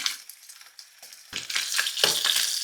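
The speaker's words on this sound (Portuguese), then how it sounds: "E agora fritar a nossa carne." Beef frying in a pan for beef donburi: a quiet start, then sizzling bursts that grow louder and more frequent after about a second, with no talking.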